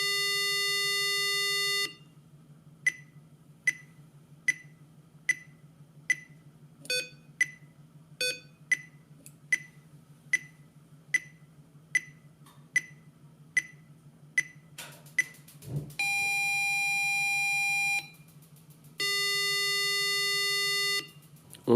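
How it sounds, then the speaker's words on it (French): An Arduino GY-61 seismic sensor alarm sounds with long sustained electronic tones, then a steady run of short regular beeps over a low hum, a brief thump, and more long tones at the end. "ça activera l'alarme et allumera une ou deux ou trois ou quatre LED en fonction de l'écart trouvé"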